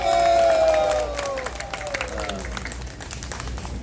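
A crowd applauds at a political rally, with dense, sustained clapping at a steady level and a voice trailing off at the start.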